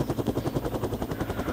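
A helicopter in a video game, shown on fire, gives a steady rhythmic rotor chop with rapid evenly spaced beats under a constant engine drone, fairly loud and close with no talk.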